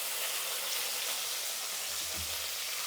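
Onions sizzle steadily in hot oil in a pan, a dense continuous hiss with a soft low clunk of stirring near the end.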